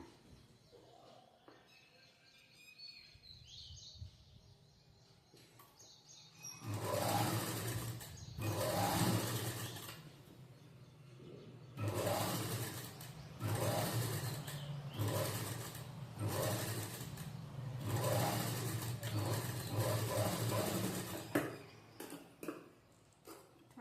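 A sewing machine topstitches a four-tuck blouse, starting after quiet handling sounds and then running in several loud bursts of steady whirring separated by brief pauses.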